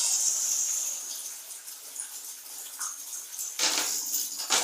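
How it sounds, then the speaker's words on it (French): Water poured out over hand-washed clothes during rinsing, a continuous splashing hiss with a louder gush near the end, close by and with no voices. "On renverse de l'eau. On va encore rincer."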